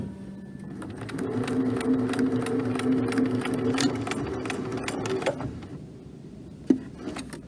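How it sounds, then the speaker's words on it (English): A sewing machine runs steadily as it topstitches an apron pocket, pivots, and stitches back down to the base, ending with a few soft handling clicks and a sharp knock near the end. "I'm going to pivot and sew back down to the base of my top stitching"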